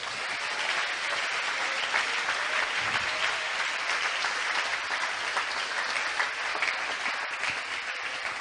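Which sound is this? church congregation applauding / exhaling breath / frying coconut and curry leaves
church congregation applauding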